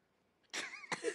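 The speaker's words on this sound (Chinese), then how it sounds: "那咳嗽太厉害了吧？" A woman lets out two harsh, close coughs in quick succession after a brief quiet pause, loud and clear with no talking over them.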